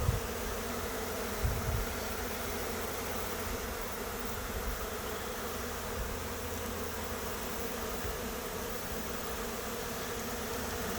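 A September swarm of honeybees buzzes steadily around a hive, a dense, continuous drone holding at an even level throughout with no voices.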